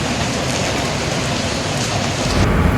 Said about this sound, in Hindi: लेकिन बारिश तो कम ही नहीं हो रही, ऊपर से और तेज होती जा रही है